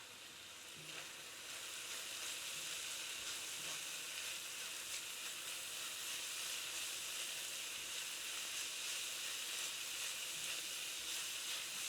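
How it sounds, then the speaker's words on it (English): Carrots and parsley frying in a pan give a steady, even hiss and sizzle throughout, close and uninterrupted, with no talk. "Fry this for another couple seconds, few seconds."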